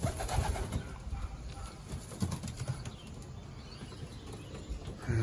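Young racing pigeons in a loft coo softly while wings flap and flutter intermittently nearby, producing a low, fairly faint, continuous bustle.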